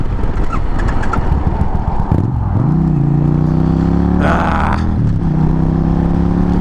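A motorcycle engine with a faulty exhaust sputters and stalls, then restarts and revs with a loud, rough drone that rises and falls, heard up close with a brief voice early on, in November.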